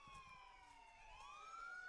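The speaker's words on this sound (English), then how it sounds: "We got some sirens there in the background." A siren wails steadily in the background near a high school varsity baseball game, its pitch sweeping slowly down then up over two seconds, fairly faint and distant with no talk over it.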